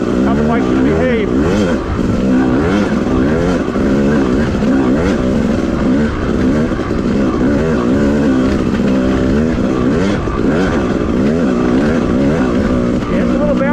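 A Yamaha YZ250 two-stroke dirt bike rides a wooded OHV trail at a slow pace, its engine droning loud and continuous with wavering revs close to the microphone, while a rider talks over it.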